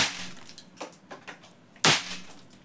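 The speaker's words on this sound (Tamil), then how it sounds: "சவுண்டே வேற லெவலில் இருக்குது இது வெடிக்கிறது." Several sharp pops from pop pop firecrackers sound at uneven intervals, then one much louder crack bursts near the end with a brief fading tail.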